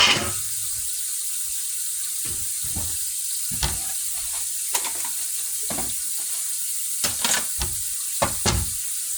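Salad leaves are rinsed in a kitchen under a running tap, giving a steady, hissing stream of water with occasional soft splashes and handling knocks as the leaves are moved.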